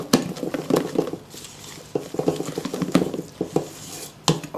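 Batter for a three-chocolate cake being beaten hard in a bowl, quick irregular scraping and tapping strokes of a utensil against the bowl, close and fairly loud with no talking.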